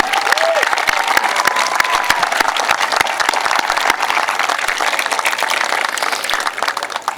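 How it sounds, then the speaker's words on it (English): Sustained, dense applause from a large commencement ceremony crowd, loud and steady throughout with a few scattered cheers, tapering slightly at the end. "let's give them a round of applause"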